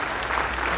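Audience at the Marwar festival event applauding steadily, a dense wash of clapping that holds at an even level for the whole short stretch with no talk over it.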